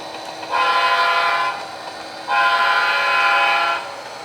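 A model railroad train sounds its horn during local switching operations: two sustained, loud horn blasts of roughly a second each, separated by a short gap, over a low steady running hum.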